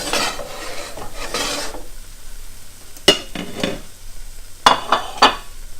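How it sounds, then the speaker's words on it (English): A wide spatula scrapes and lifts zucchini and eggs from a pan in a few short, sharp rasping strokes, preceded by a softer stretch of stirring and scraping, close and moderately loud. "Got a nice wide spatula here, works wonderful."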